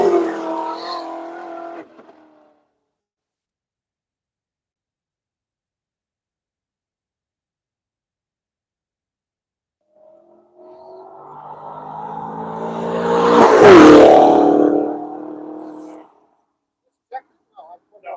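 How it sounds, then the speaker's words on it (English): Electric-powered Chevrolet Camaro race car on the Nelson Ledges track, its whine swelling as it approaches and passes fairly close, then cutting off, after a short stretch of talk at the start. "Here we have the electric powered Camaro."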